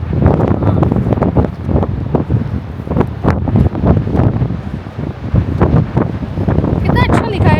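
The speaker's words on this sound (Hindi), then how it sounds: "यहाँ पे ऐसी ही हवा चलती है" Strong wind buffets the microphone in Nako, a Himalayan mountain village at 11,800 ft in Spiti, as weather turns bad; a steady loud roar with gusty surges runs throughout, with voices talking faintly underneath.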